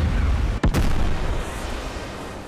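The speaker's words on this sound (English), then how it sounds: "that was a big explosion." A single sharp blast from a big explosion in the video game Final Fantasy VII Remake cracks out and trails into a fading rumble, then a low steady background hum continues.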